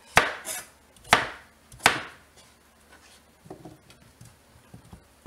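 A knife cutting pumpkin into cubes on a board: three crisp, loud chops about a second apart, followed by softer, quicker tapping and scraping cuts, close up and with no talk.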